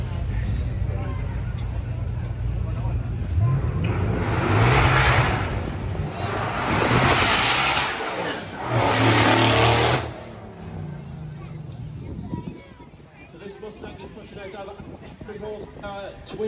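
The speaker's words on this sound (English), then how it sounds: "Glorious V8 soundtrack in the front of that car, shaped like a bullet coming up the hill there" A bullet-shaped V8 car with newly fitted twin turbos and raised boost revs hard at a car show in Beaulieu, England, three loud surging revs over steady engine drone, with a crowd murmuring and talk throughout.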